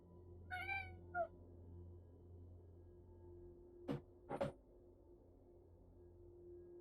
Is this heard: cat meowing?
yes